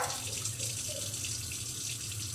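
Running tap water rinsing hands at a sink during a surgical hand scrub, a steady, fairly quiet splashing stream heard alone and close by.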